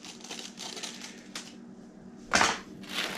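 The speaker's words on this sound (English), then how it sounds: "Get our scissors. We're going to cut this right at the top." Scissors snip open the top of a GI Joe action-figure package, giving a few quiet, close crunching cuts through plastic and paper, with a sharper rustle near the end.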